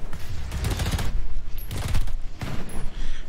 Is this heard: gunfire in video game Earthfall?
yes